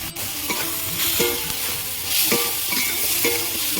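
Ground turmeric, cumin, coriander and ginger paste sautéed with a fish head in a pan, giving a close, continuous sizzle broken by rhythmic scraping strokes of a spatula, no voices present.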